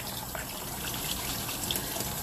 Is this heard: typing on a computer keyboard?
no